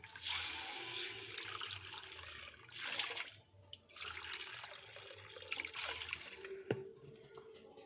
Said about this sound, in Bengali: এখানে আমি এক বাটি চিনি দিলাম এর মধ্যে আমি তিন বাটি জল দেব